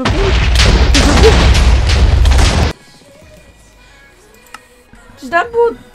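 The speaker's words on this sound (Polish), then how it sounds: "Czy to było TNT?" A loud, booming TNT blast in Minecraft roars for a couple of seconds, then cuts to quiet with a few faint game-like tones and short bursts.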